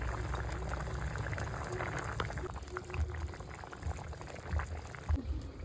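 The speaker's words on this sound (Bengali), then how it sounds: "ফুটে একদম মাছ হয়ে গেছে, আলু বেগুন সব সিদ্ধ হয়ে গেছে" Fish curry with potato and eggplant bubbling in a pot, a soft, fairly faint burble with low thumping pops and light clinks over a few seconds.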